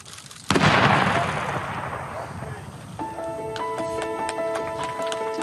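A ceremonial artillery gun salute fires during a British royal tour, one loud boom with a long rolling echo, followed by a sustained brass band tone; a voice is heard nearby.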